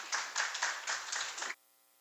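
A brief burst of audience applause at a city strategy forum, a few seconds of moderately close clapping that stops abruptly, with no voices over it.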